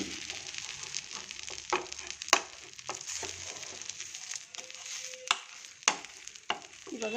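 Food fries in a spoonful of oil in a pan with a steady soft sizzle, broken by scattered sharp clicks and scraping stirs of a utensil against the pan, close and fairly quiet with no talk.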